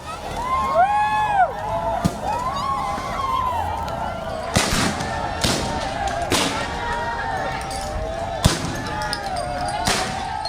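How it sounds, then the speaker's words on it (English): Tear gas canisters fired by security forces to break up a protest, a series of sharp bangs spaced irregularly over crowd noise and wailing sirens, with people shouting in the background. "the SDF fired tear gas to disperse the protesters"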